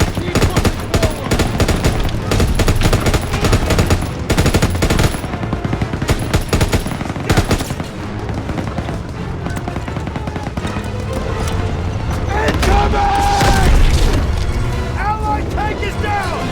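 Rapid machine-gun bursts and booming explosions from a Call of Duty WW2 battlefield, loud and nearly continuous, with shouted voices over the dense gunfire.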